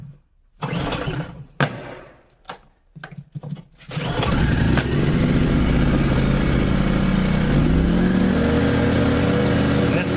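KOMPAK 2.3 kW dual-fuel inverter generator (KGG20Ei-DF) started on LPG with a dry petrol tank: several short, sputtering pull-start bursts, then the engine catches and settles into a loud, steady running drone.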